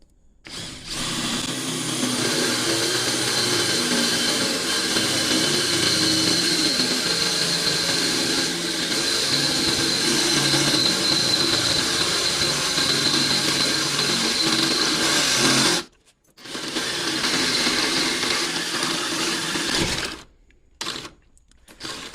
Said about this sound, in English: So we're gonna drill a hole.